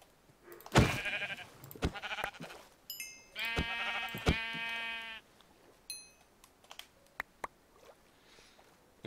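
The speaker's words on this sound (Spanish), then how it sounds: "Vamos a acabar con las ovejas salvajes." Sheep in Minecraft bleat in several short, buzzy calls spread across the stretch, each fairly close and clear, with quiet game clicks and pauses between them and no talking over them.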